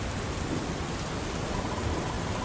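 Steady rain and storm ambience in a video game, an unbroken wash of dense hiss that stays even and moderately loud throughout, with no distinct thunder crack standing out.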